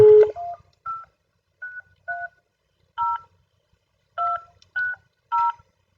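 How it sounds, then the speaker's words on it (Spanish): A landline telephone number is dialed on a keypad: a quick series of about nine clear DTMF beeps in uneven groups, each tone short and distinct, with near silence between them and no talking. "Marcar el número."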